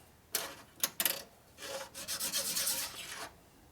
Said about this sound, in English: you just want to put a little pressure on it, right on the tips